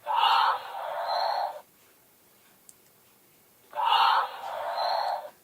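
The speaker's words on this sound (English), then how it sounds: "And he just snores that couple times and then he stops." A Hasbro animatronic Baby Yoda toy gives two snores, each a soft rasping breath with a brief pause inside it, spaced a couple of seconds apart with near silence between. The sounds are close and moderately loud, and no one talks.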